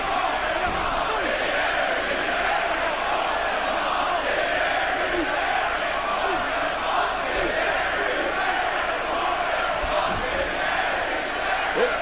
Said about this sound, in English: This crowd just excited for this big matchup here between Baron Corbin and Austin Aries here in Dallas